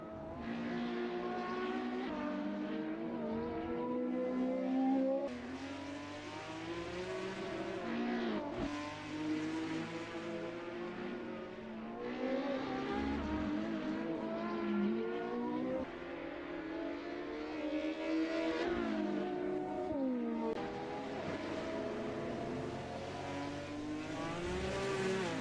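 Ferrari race cars from a video game lap the Imola circuit, engines revving loudly and continuously with rising and falling pitch as gears shift, occasional tire squeal, and no talk.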